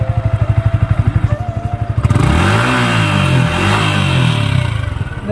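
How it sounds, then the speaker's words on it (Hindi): Yamaha R15 motorcycle with a lightly modified exhaust, loud and close, idling with a fast even pulse before the throttle blips into a strong rev that rises and holds then settles. "ये देख सकते हैं इसके एग्जॉस्ट की आवाज़।"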